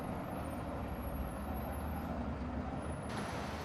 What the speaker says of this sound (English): And here comes a heavy construction truck carrying a digger.